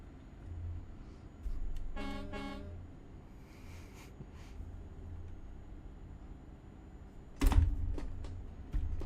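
Euro Truck Simulator 2 truck horn honks: a short rapid series of toots early on and a louder blast near the end, over a low in-game engine drone.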